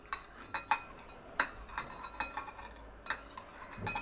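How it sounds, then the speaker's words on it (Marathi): Spoon scraping and clinking against a pot while tival ingredients are stirred and mixed, a series of light irregular taps and scrapes, close and fairly quiet with no talk. "हे सगळं छान मिक्स करायचं"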